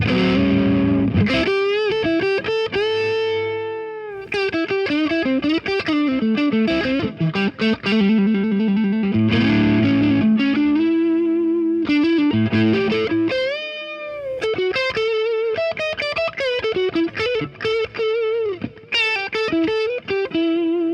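A 1963 Fender Stratocaster played through its neck pickup into a distorted amp with a grungy tone: loud, close electric guitar riffs and sustained bent notes with short pauses between phrases.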